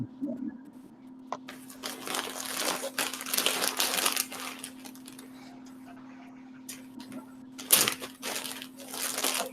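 Plastic being rustled and crinkled close by in bursts of crackling, fairly quiet, with a steady hum underneath and a louder crumple near the end.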